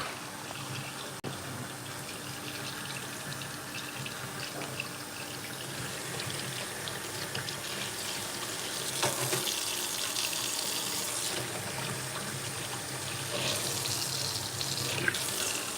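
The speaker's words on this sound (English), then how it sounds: "every time you wash dishes, like just that sound right there, a little bit of sound travels through the wood and goes upstairs to the people" Tap water runs steadily into a kitchen sink during dishwashing, a continuous broadband rush that swells slightly louder partway through, heard alone with no talking.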